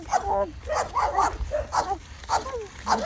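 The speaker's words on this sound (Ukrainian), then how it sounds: "А, собака, да, хавкая." Close, rapid dog barks and yips come in a series of short bursts at an uneven rhythm, fairly loud against a low background hum.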